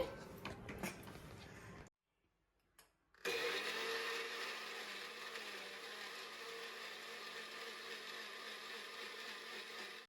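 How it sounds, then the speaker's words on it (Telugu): A blender whirs steadily as it blends watermelon juice with sugar, mint leaves and lemon. It comes on loud and constant after a brief silent pause and runs unbroken to the end. "ఇప్పుడు బ్లెండ్ చేసుకున్నాం"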